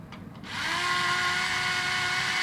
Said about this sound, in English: let me show you some drilling action here